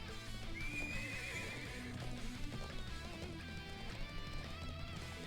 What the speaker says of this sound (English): Thoroughbred war horses from the Bardius family's own stables.